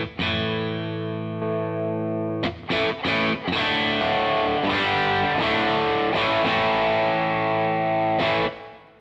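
A heavily distorted electric guitar played through a Two Rock Classic Reverb Signature amp with boosted gain rings out a sustained chord, then several short choppy hits before more overdriven strumming, loud and close.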